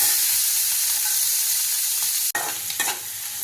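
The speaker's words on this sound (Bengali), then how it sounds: "এবার একটু ভালো করে এটাকে হালকা ফ্রাই করে নেব।" Chicken butter masala ingredients, salted, frying lightly in a pan with steady close sizzling and stirring scrapes, a sharper clatter partway through, no talking.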